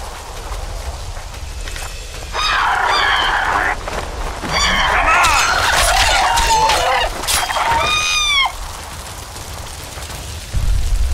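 Chickens cluck and squawk in a video game, in bursts of bright, rising and falling calls over a low background hum, with quiet gaps between flurries.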